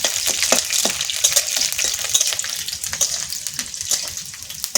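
Garlic sizzling in hot oil in a pan for a yardlong bean paste, a steady bright hiss broken by scattered clicks and stirring scrapes, close and moderately loud with no talking.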